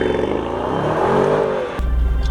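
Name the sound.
Mercedes-AMG GT63S car driving off, engine revving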